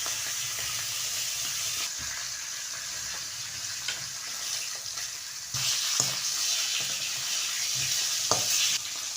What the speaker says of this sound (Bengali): মাছটা আমার ভাজা হয়ে গেছে, এবার আমি তুলে নেব।